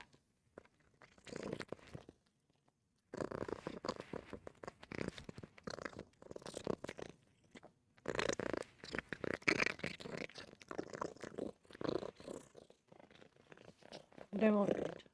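A cat purrs loudly in rhythmic, rumbling pulses while being cuddled close to the microphone, with short pauses between bursts and a small squeak near the end.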